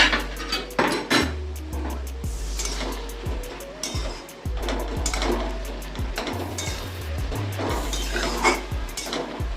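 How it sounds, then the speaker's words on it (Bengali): A pot lid comes off a vegetarian ridge-gourd ghonto as it cooks, with a run of sharp metallic clanks and cookware clatter and some stirring noise over a steady low background hum. "ঢাকনাটা খুললাম"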